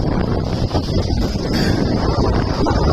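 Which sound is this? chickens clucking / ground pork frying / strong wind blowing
strong wind blowing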